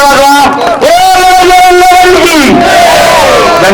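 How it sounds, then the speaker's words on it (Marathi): At a village fair wrestling match, a crowd loudly chants the Bajrang Bali slogan in drawn-out, wavering unison shouts that swell and fade, with clapping mixed underneath. "प्रेक्षक मंडळी दोन्ही खेळाडूंना प्रोत्साहन देण्यासाठी एकदा बजरंग बलीचा नारा आणि जोरदार टाळ्या"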